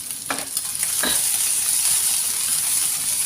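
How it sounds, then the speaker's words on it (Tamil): Fish fried rice being stir-fried over high heat, a bright continuous sizzle with a couple of quick scraping tosses of the spatula near the start, close and steady, no talking. "ஹை ஃபயரில் வச்சு நல்லா மிக்ஸ் பண்ணுங்கள்."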